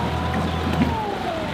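A 32-foot trimaran's engine runs with a steady, loud drone while spitting water, mixed with wind and water noise and no talk.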